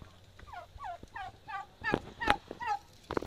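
Turkeys gobbling in a farmyard pen with newly hatched chicks, several quick warbling gobbles in close succession, near and moderately loud.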